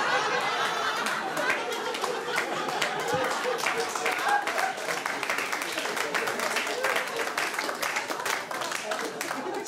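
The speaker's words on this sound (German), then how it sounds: "Sie da hinten sollten nicht zu laut klatschen" Audience clapping in a room, dense and steady throughout with a murmur of crowd chatter mixed in.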